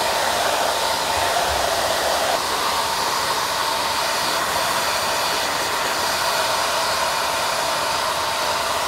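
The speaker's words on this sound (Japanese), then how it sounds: "こうやって風を真下に落とすようにこうやって乾かしてください" Hair dryer blowing steadily while hair is dried in a salon, a constant loud whooshing hiss close by with slight shifts in tone as it moves, no talking.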